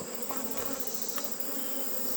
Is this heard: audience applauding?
no